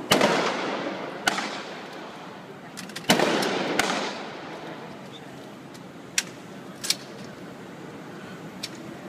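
Gunfire at a police terrorism demonstration, sharp distant bangs and cracks with long echoing decays, a few heavy reports and several lighter pops spread irregularly across a quiet outdoor background.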